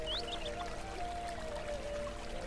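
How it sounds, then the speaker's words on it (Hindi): River water flows in a steady, continuous rush with a soft, even wash of noise and a faint tone running through it from start to finish. "नदी के बहने का स्वर।"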